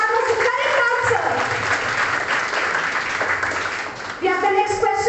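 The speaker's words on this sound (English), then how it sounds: "Let's give a huge round of applause" A school assembly audience of students breaks into applause at a sports day quiz, a crowd of hands clapping together, with a voice speaking over the start and again as the clapping fades.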